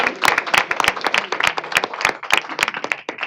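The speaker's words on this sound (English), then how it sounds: "give them a round of applause, please." A small group at a state board of education meeting claps enthusiastically, a brisk, uneven patter of hands that continues throughout.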